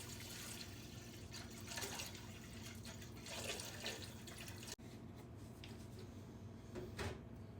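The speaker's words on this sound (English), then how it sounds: "I am going to use about 8 cups of water, so that's roughly half a gallon." Water splashes and runs steadily into a cooking pot as about eight cups are filled for soup, with a few softer clanks and splashes near the end, close and moderately quiet, with no talking.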